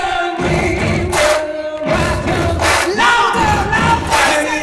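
Wedding guests at a chateau chant along to a song in loud rhythmic bursts, a crowd of voices shouting together over the music.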